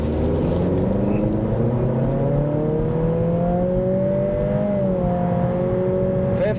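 A 2023 Acura Integra A Spec in sport mode pulls hard from a standstill, its engine note climbing steadily and loudly through the revs over a constant road roar, heard from inside the cabin.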